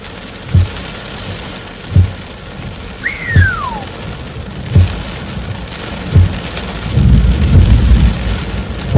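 Heavy rain pours steadily on a surface while a nearby lightning strike sets off loud, deep thunder cracks and rumbles, with a brief whistling tone in the middle.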